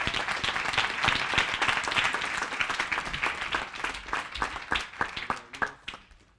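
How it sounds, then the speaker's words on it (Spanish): A church congregation claps together in sustained applause for the Lord, dense and steady at first, then thinning into scattered separate claps toward the end. "voy a darle ese aplauso al Señor"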